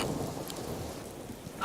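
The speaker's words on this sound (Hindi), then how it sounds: "एक तो बारिश हो रही है, सारी लकड़ियां भीग गई हैं।" Rain and thunder in a storm that has soaked firewood, a steady broadband hiss of rainfall with low rumbling thunder beneath, continuous and moderately quiet throughout with no speech.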